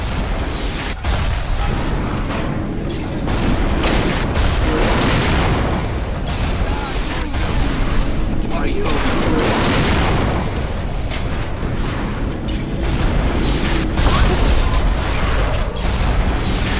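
A turret is blown up in BioShock Remastered, played on hard difficulty, with loud booming explosions and bursts rolling through a sustained, noisy din that stays heavy throughout.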